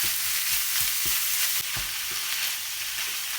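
Minced pork stir-fried in a pan for spaghetti with tomato sauce, a loud steady sizzle broken by soft scraping thumps of a spatula stirring at an even pace.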